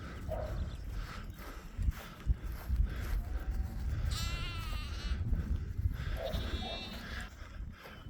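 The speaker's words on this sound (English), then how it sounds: "Lambs." Lambs bleat near a pretty village in the Calderdale countryside, with a few wavering cries over a steady rustle of wind and movement outdoors.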